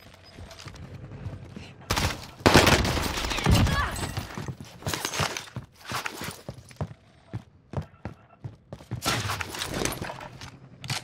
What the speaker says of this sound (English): Hey, did you see that sniper shot?